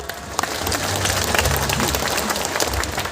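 Crowd clapping at a Sarhul festival gathering in Jashpur, a dense, steady wash of applause that holds for about three seconds with no pauses.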